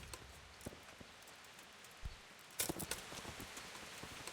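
Horse hooves clip-clop in Kingdom Come: Deliverance, faint and distant at first, then a closer, louder patter of steps in the second half over quiet outdoor ambience.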